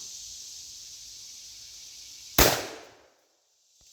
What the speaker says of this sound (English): I'm gonna shoot that center block one more time.